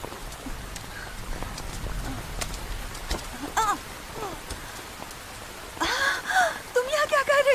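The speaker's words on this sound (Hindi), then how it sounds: "कितनी बारिश हो रही है।" Heavy rain pours steadily as a broad, even hiss through a quiet night scene, with a few voices and brief sounds rising over it toward the end.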